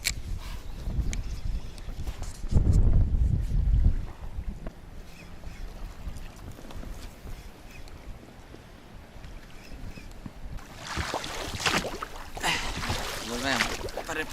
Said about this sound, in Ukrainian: відчуваємо вітер